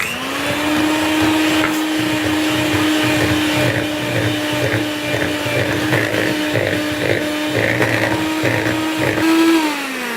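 Electric mixer beating dough after an egg is added, a loud steady motor whine with a pulsing, churning rhythm throughout, the pitch shifting slightly as the load changes.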